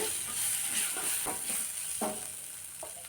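Spices sizzle in hot oil in a pan while being stirred for dal rice, a steady frying hiss with soft scraping stirs at intervals, close and moderately quiet.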